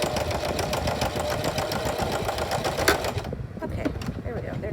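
A sewing machine stitches the signature of a handmade junk journal, running in a rapid steady mechanical chatter that stops near the end, leaving faint handling noise.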